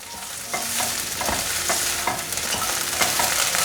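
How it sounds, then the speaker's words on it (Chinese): Shiitake mushrooms stir-fry with minced ginger in a hot wok, a continuous close sizzle punctuated by regular spatula scrapes and tossing knocks, no voices. "放入香菇，把香菇炒香"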